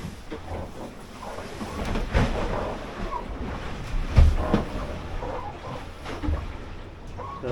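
Strong wind and waves at sea aboard a boat travelling at nearly four knots: a continuous roaring rush of wind and water with heavier gusts and thumps, no voices.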